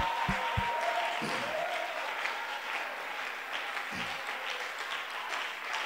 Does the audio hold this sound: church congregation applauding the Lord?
yes